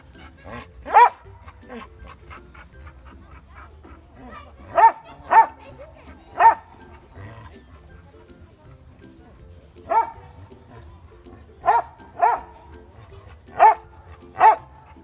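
Several sharp barks from beagles ring out in scattered bursts, some in quick pairs, over a low outdoor background with faint voices.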